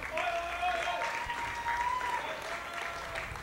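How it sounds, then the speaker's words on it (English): Audience applause and whistles for a comedian coming on stage at an MMA roast, a dense steady roar of clapping from a crowd. "Big round of applause, ladies and gentlemen"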